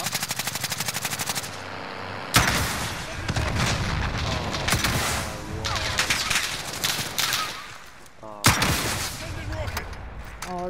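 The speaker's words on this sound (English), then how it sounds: "Oh, they're fucking rockets, man. They just fucking spiral out of control." Rockets and rapid gunfire burst in a military video game, with loud rattling volleys, sharp booms and whooshing launches in clustered bursts, and voices heard among them.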